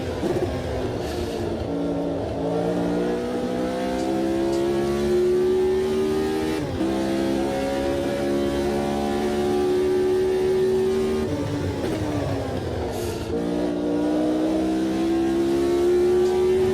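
A Lotus 72E racing car in the Automobilista 2 video game screams around Spa-Francorchamps, loud and near, its engine pitch climbing through repeated upshifts with short dips between gears, no voices.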